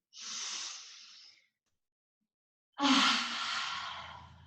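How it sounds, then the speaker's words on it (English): Children's yoga deep breathing exercise: a long, airy breath out, a pause of silence, then a louder, breathy exhale, close and clear with no talk. "Put one hand on your heart and one hand on your tummy and take a deep breath in."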